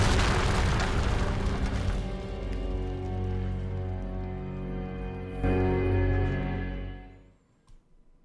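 A loud shotgun blast in a video game booms and then rolls into a long, fading rumble that dies away to near silence at the end.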